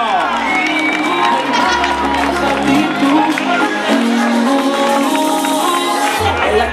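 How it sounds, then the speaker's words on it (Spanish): Spectators lining a 5 km memorial road race cheer, shout and applaud a runner on his last lap, a steady loud crowd roar with an announcer's voice over it throughout. "¡Un aplauso para él!"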